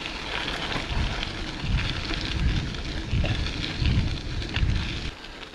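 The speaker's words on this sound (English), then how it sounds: "Oh, it's raining profusely." Heavy rain in a forest, a dense continuous hiss of falling water with gusty low rumbles like wind buffeting the microphone, steady and close, easing slightly at the end.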